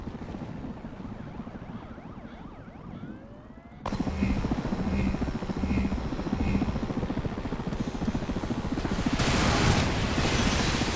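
Helicopter rotor thumping in the PS3 vehicular combat game Twisted Metal, a steady loud chop that grows denser partway through, mixed with game effects and faint siren-like tones.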